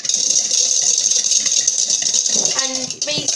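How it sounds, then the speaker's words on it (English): Steady fast whisking of coffee, sugar and a little cold water in a bowl for whipped coffee, a continuous close rattling whir throughout with a brief clatter near the end. "And basically you whisk and whisk and whisk."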